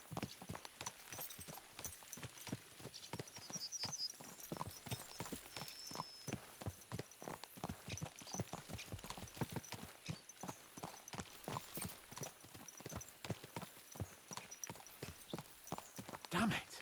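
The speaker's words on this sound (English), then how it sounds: "Let's really spur these horses on, eh?" Horses gallop across open ground in the medieval game Kingdom Come: Deliverance II, their hooves pounding out a rapid, steady clip-clop up close for the whole stretch, with occasional voices in the background.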